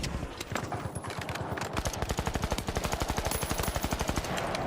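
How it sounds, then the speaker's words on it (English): A Lewis gun fires sustained rapid automatic bursts in the video game The Finals, with dense rhythmic shots building into a continuous stream amid other game noise. "He's just fucking dominating with the Lewis gun."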